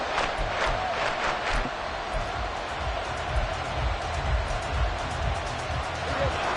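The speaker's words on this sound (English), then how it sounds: "Well, this crowd into it now." Stadium crowd at an NFL football game, Dallas at Miami, keeping up a steady roar of cheering and noise for the whole stretch, with a few brief louder swells near the start.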